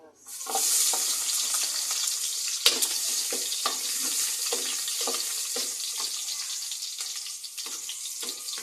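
Onions sizzle and fry in a hot pan, a steady loud hiss with scattered scraping strokes of stirring throughout.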